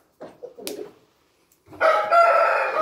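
A Brazilian murá fighting rooster crows loudly and close by, a sustained bright call after some quieter clucking and shuffling sounds.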